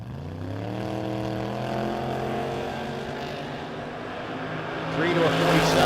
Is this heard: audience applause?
no